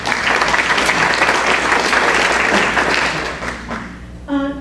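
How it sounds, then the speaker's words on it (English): Rotary club members at a meeting break into loud, dense applause that holds steady for about four seconds, then thins out and fades. "So give yourselves a round of applause for that."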